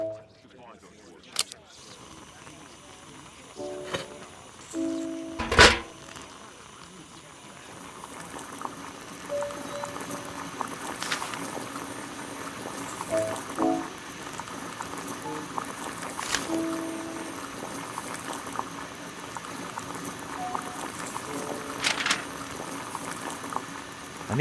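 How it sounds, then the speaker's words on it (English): Water heating in a kettle over a gas burner in a Sherlock Holmes video game, a steady low bubbling hiss and simmer running throughout, with a sharp clack early and faint game sounds around it. "Boil water in kettle. I need to turn on the gas burner first."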